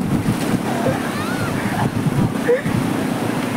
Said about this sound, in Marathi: समुद्राच्या लाटा पण येते